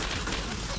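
Video game gunfire during a grenade-focused multiplayer match, a dense, continuous burst of shots filling the whole short moment at steady loudness.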